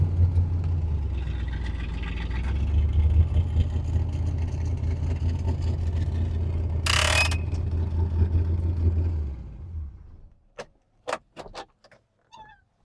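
A 1967 Corvette engine runs steadily with a deep, rumbling idle for about nine seconds after start-up, then cuts off, leaving a few short clicks and knocks in near silence.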